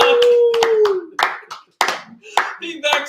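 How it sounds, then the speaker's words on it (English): Podcast hosts clap hands briefly in a studio, with sharp, scattered claps under and between animated talk. "can we just clap it up real quick?"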